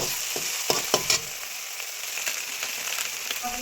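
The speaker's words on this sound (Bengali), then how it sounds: "এবার আমি ডিম ফাটিয়ে দিয়ে দেবো।" Eggs frying in a pan with ginger-garlic paste, a steady bright sizzle with a few sharp cracking and tapping knocks early on, then continuous hissing.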